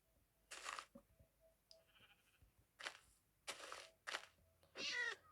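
A cat meows several times in short bursts, fairly close, with brief quiet gaps between calls.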